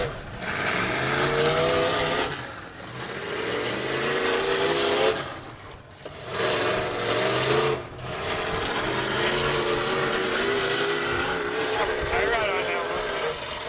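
A race car engine, the No. 21 running at a track, roars loudly in repeated surging passes that rise and fall and briefly dip between runs.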